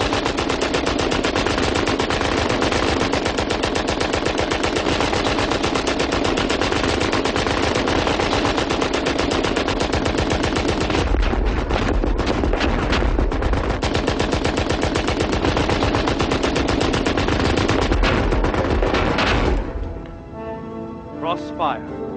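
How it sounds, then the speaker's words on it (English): German machine guns firing in World War I crossfire over no man's land: a dense, continuous rattle of rapid bursts filling about twenty seconds, loud and close, before dropping away to a fainter tail. "As long as the machine gun's intact, neither side can cross no man's land."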